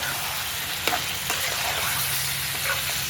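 Tomato paste for chicken curry frying in a pan over a wood-fired stove, a continuous close sizzle with a few soft stirring scrapes.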